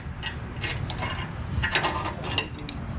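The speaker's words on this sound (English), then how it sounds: "Just kind of screwing it down in there." Mechanical clicks and ratcheting from a part being screwed down into a T90 transmission during a rebuild, a string of close, irregular metallic ticks and scrapes.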